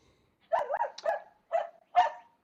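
Dogs barking and yipping indoors in five short, sharp bursts close by, separated by brief silences, with no talking over them.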